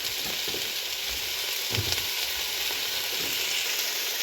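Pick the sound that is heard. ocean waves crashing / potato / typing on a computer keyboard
potato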